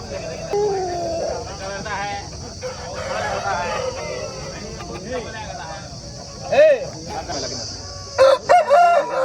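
A grey Aseel rooster crows at the Saturday Aseel market in Mydukuru, loud close calls rising over continuous market chatter, with further clucks and crows near the end while someone speaks.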